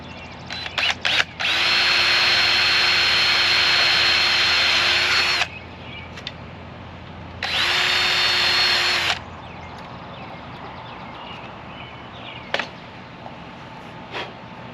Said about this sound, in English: Got our holes cut in so we can put these in